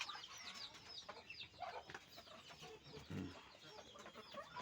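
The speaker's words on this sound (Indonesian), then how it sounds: "Ini ada beberapa ayam" Chickens on a duck farm cluck in a busy, overlapping stream, with a few louder calls up close and more birds behind, steady throughout.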